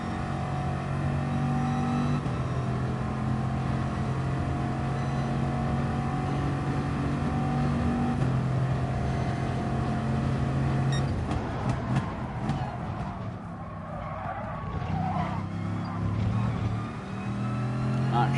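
A race car engine in a video game drones steadily through a chicane, holding a sustained pitch and then dropping as it slows and reaccelerates, continuous and close.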